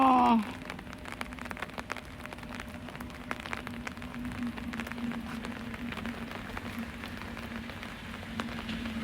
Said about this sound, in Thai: นี่ค่ะท้องฟ้าวันนี้นะคะ นี่ค่ะ ไม่เห็นแสงเลยนะคะ ฝนตกแบบนี้